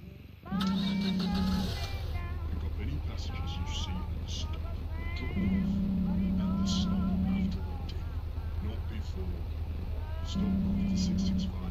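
Repeated meowing from a cat character in the bus-driving video game Night Bus, several high wavering calls over a steady low engine hum, with someone talking throughout.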